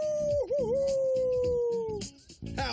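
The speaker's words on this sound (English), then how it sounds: "howling. That's what wolves do to keep the pack together." Wolf puppy howling, a single clear rising-and-wavering tone that holds and slowly falls, close and prominent over a busy background of music and movement.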